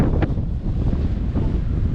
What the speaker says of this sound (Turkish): Bugün de çok rüzgar var.